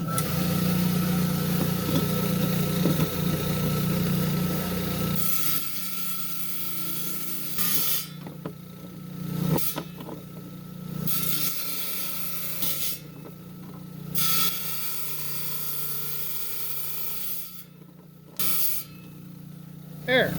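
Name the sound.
trim saw cutting indigo gabbro rock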